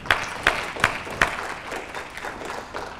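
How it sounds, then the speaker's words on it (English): An audience at a medical talk on multiple sclerosis applauds with a few sharp, evenly spaced claps that soften into lighter, scattered clapping at moderate distance. "Let's give them a round of applause for doing that."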